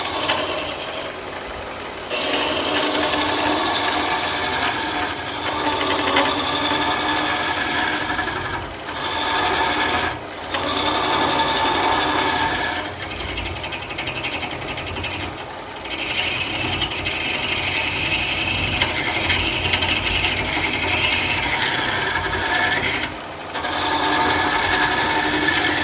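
A hollowing tool cuts into wood turning on a lathe, giving a steady, close scraping rasp that runs almost continuously for about 26 seconds, broken by a few brief pauses where the cut lifts off.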